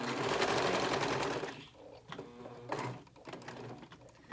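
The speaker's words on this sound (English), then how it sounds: "we're not able to back tack on a serger, so we're going to sew off the edge a little bit" A serger sewing off the edge of fabric whirs rapidly and loudly for about a second and a half, then stops, followed by quiet handling clicks and rustles.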